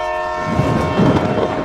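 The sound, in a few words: train horn sound effect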